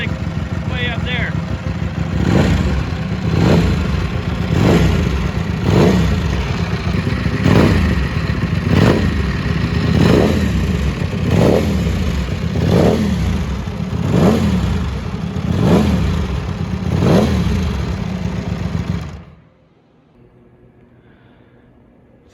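Ducati Desmosedici RR street-legal MotoGP-derived motorcycle engine revving loud and close, a steady run of about a dozen sharp, evenly spaced throttle blips over a constant roar, cutting off abruptly near the end.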